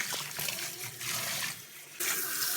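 Water from a tap runs steadily while a Yorkie is rinsed in a bath, a close, continuous splashing rush that dips briefly and then surges louder again.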